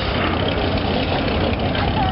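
Evening street traffic outside a church in colonial Morelia, Michoacán, Mexico, with engines idling in a steady dense rumble while a crowd murmurs nearby and voices carry over the mix.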